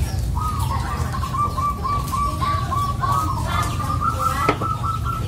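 A perkutut zebra dove coos in a steady, rhythmic series of soft notes that runs through the whole stretch. A constant low background hum sits underneath, and nobody speaks.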